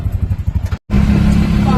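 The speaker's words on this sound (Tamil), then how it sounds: "இப்போ ஆட்டோவில் போயிட்டுருக்கோம்" An auto rickshaw engine rumbles loudly up close while riding, with voices over it and a brief cutout midway.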